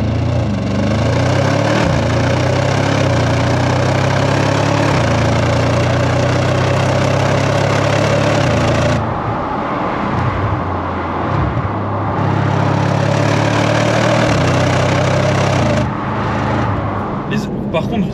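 An Audi RS6-R ABT drones loudly and steadily from close inside while driving a twisting mountain road, the engine note holding then easing around the middle before building again.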